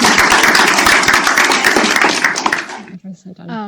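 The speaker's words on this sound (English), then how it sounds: "maybe should we give Herbert another round of applause?" An audience claps loudly and steadily for a few seconds after a university lecture, the applause tapering off before a voice begins speaking at the end.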